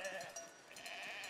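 Sheep in the city-building game Foundation bleat faintly on a farm, soft and distant under game ambience with no speech.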